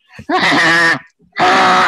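A voice imitates a camel with two loud, drawn-out groaning bellows, close and harsh, separated by a short pause.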